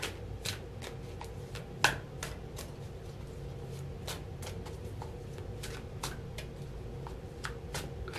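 Tarot cards are shuffled and handled quietly, giving a soft series of crisp, irregular riffling snaps spaced across several seconds against faint room noise.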